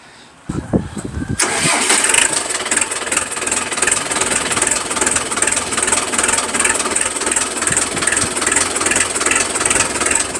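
A six-year-old Massey Ferguson MF 504 tractor with shuttle gearbox cranks briefly and catches, then settles into a loud, close, steady diesel idle with a rapid even knock for the rest of the clip.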